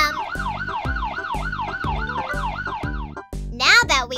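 A loud, close siren wails up and down in quick repeating sweeps, then breaks off, followed by a brief burst of a voice.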